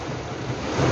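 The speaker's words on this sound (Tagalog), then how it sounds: "Lakas, mahangin pa, may kasamang hangin." Loud, steady roar of wind and rain in a typhoon, a broad rushing wash heard from inside a car, building slightly louder toward the end.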